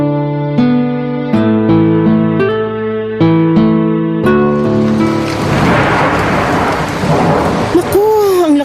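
Rain pours steadily with a low rumble of thunder outside a window, swelling from about four seconds in, partly under a sustained musical drone and tones at the start of a Filipino drama scene.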